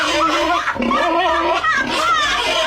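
A person's voice imitates a pig with snorting, grunting oinks, close and loud in a short burst.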